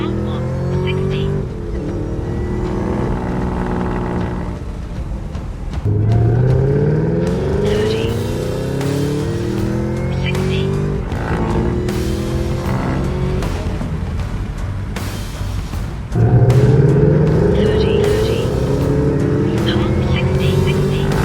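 A cammed truck engine revving repeatedly at wide open throttle, loud and close, with long rising and falling sweeps and brief pauses between pulls; someone speaks briefly.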